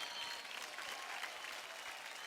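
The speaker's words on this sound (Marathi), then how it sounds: "जोरदार टाळ्या" A studio audience at a televised Marathi dance competition claps loudly and continuously, a dense, even wash of applause with no voices.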